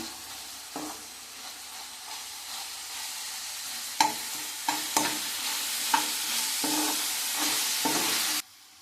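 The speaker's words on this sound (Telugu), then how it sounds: "అల్లం వెల్లుల్లి పేస్ట్ వేసుకుందామండి ఒక స్పూను పచ్చివాసన పోయే వరకు వేయించుకుందాం" Ginger garlic paste frying in a pan for gongura chicken, a steady close sizzle broken by repeated scraping stir strokes, about five or six sharper clacks of the spoon against the pan, with no voices.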